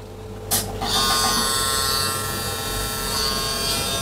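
A Jucai Pro Minicandy tattoo pen machine switches on after a brief click and runs with a steady, quiet electric buzz, close and alone, holding an even hum throughout.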